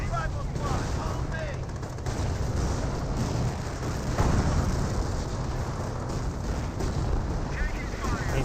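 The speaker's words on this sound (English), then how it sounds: "Another artillery barrage running on in." Artillery barrage in the video game Company of Heroes, a dense continuous rumble of blasts and gunfire at steady loudness, with a commentator talking over it.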